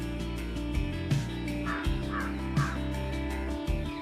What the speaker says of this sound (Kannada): ಸೊ ತುಂಬ ದಿನಗಳ ನಂತರ ಕಾಗೆ ಸೌಂಡ್ ಕೇಳಿದ್ದು, ಸೊ ಹಂಗಾಗಿ ಅದನ್ನು ವಿಡಿಯೋ ಮಾಡಿಕೊಂಡೆ